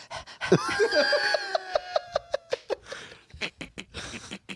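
A person imitates a thirsty dog panting with a rapid, rhythmic run of loud, breathy huffs that starts with a voiced whine, up close.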